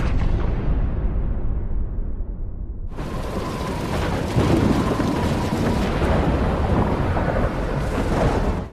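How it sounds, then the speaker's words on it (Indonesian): A rumble of thunder rolls in at night, then a loud downpour of heavy storm rain starts suddenly and keeps pouring steadily, with thunder growling underneath. "Di malam hujan badai"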